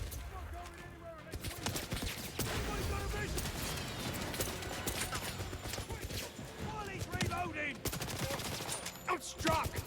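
Gunfire in a 007 video game, a busy, cluttered mix of repeated shots and impacts over game noise, moderately quiet, with a player's voice talking over parts of it.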